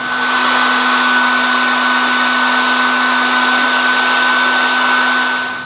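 Hair dryer blowing on a Thompson Center Hawken rifle barrel in a bathroom after cleaning, producing a loud, steady airy roar with a constant tonal hum that runs unbroken throughout.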